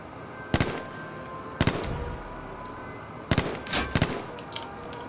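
Gunfire in an online battle-royale style shooter, with sharp, separate shots and short bursts that crack loudly in clusters over a low ambient hum, some quick pairs of reports echoing briefly.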